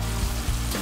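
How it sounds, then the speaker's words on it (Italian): Champignon mushrooms brown in a frying pan with garlic, a brief, steady, close-up sizzle with faint pops and stirring scrapes. "i funghi, e faccio rosolare bene"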